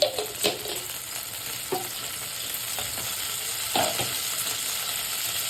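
Panch phoron, the five-spice mix, crackles in hot oil for an Odia kau fish curry, a continuous close sizzle broken by a few louder pops and spoon scrapes, with no voices.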